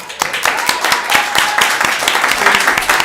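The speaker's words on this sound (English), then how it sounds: "Please hold your applause." Applause from the public at a city council meeting, a mix of individual claps and denser clapping over a few seconds, with voices in the room underneath.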